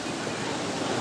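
Heavy pouring rain roars as a steady, even wash of broadband noise while someone rides around outdoors, close and unbroken with no clear voices.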